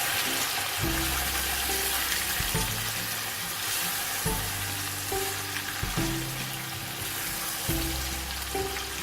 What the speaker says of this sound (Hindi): इसको 3-4 मिनट हम इन दोनों चीज़ों के साथ इसको फ्राई करेंगे थोड़ा सा।